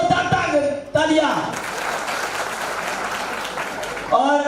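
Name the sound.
audience applause at a rally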